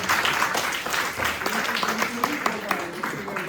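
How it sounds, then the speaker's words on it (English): Applause from a crowd, steady clapping continuing throughout, mixed with chatter and voices over the noise. "Please give her a big round of applause."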